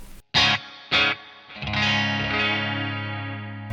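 Electric guitar run through a Pigtronix Echolution 3 delay pedal with the mix turned up: two sharp plucked notes, then a sustained chord whose louder repeats smear and trail on, alone with no talk.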